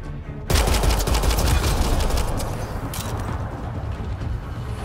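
Gunfire in the sci-fi shooter Mass Effect Andromeda: after a short quiet moment, heavy sustained automatic fire breaks out, loud and dense, with individual shots and blasts rising out of the rumble, no voices.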